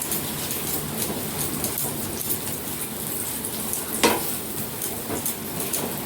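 Aloo paratha frying in ghee in a pan, a steady dense sizzle with light crackle running throughout and a brief louder scrape or stir near the middle, close and alone with no talking.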